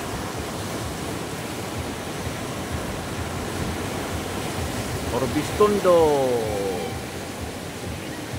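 Large ocean waves roll in at Urbistondo beach in San Juan, La Union, a steady broad roar of surf with one heavier swell building midway, while a voice speaks briefly over it.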